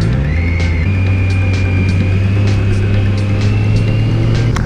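Cars pass through an intersection while a 2021 Kawasaki Versys 1000 SE LT+ motorcycle idles, with a loud, steady engine drone and a constant hum throughout and no talking.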